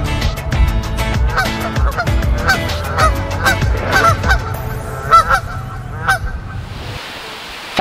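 Canada geese honk repeatedly in a flock, loud and close, overlapping calls in an uneven rhythm that thins out near the end.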